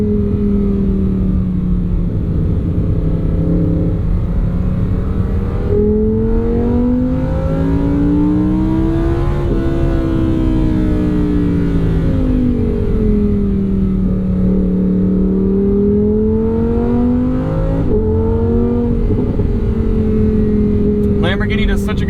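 A 2023 Lamborghini Huracan Sterrato engine revs up through the gears from inside the cabin, pitch climbing and dropping with smooth shifts, loud and continuous under a steady road roar.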